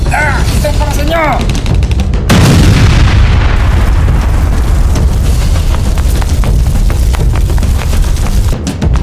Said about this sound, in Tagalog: Ihagis mo na yung granada.